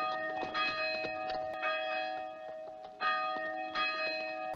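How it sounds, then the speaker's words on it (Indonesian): Church bells ring on a Sunday morning in a small western town in the 1952 film High Noon, with repeated resonant clangs sustaining their tones in overlapping peals, loud and clear with no talk. "lonceng gereja berdentang di minggu pagi pertanda ibadah akan dimulai"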